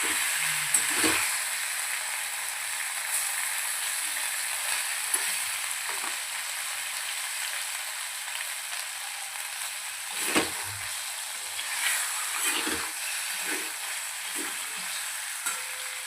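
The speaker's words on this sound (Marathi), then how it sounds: "छान आपल्याला हे अद्रक लसणामध्ये परतून घ्यायचं." Ginger and garlic sautéed in a pan give a soft, steady sizzle, broken by occasional scraping stirs and light clinks, with no voices.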